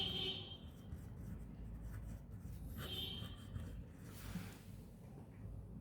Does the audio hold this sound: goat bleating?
no